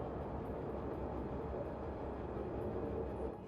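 A train rumbles steadily along in a futuristic corporate shooter game, a constant low mechanical drone at an even level from start to finish.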